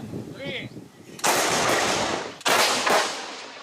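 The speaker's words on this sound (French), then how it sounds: "préparation au tir, procédure millimétrée et obus de 155 mm" A Caesar 155 mm self-propelled artillery gun fires from a rapeseed field, making a loud deep blast with a long rumbling tail, then a second boom, over outdoor background noise.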